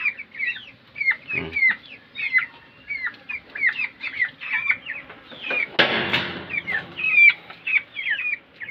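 Chickens cluck nearby in a steady run of short, repeated calls, with a brief scuffle of noise partway through and a louder rustle near the middle.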